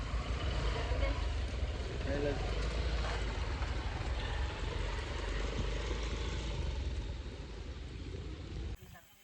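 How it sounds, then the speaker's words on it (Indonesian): A tractor engine runs outdoors on a rural track in East Kalimantan, giving a steady, loud, low mechanical drone that holds throughout, with voices faintly underneath, and cuts off just before the end. "Traktornya dibunyiin."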